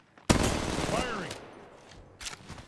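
A sharp burst of gunfire in the mobile battle royale game Apex Legends Mobile starts loud and abruptly, then trails off into a ringing tail, with a second short burst near the end.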